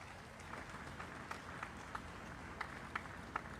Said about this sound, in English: how about a round of applause for the Guard of Honor and the flag